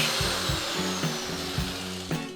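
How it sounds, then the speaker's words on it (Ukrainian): An angle grinder with a wire brush grinds and scrapes rust off the metal of a 1981 Karpaty moped in repeated rough passes, a harsh rasping whir that rises and dips rhythmically, close by. "Щоб позбавитися цього на рані, скористаємося болгаркою з дротяною насадкою."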